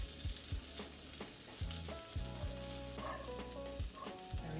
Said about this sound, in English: And my butter is starting to melt.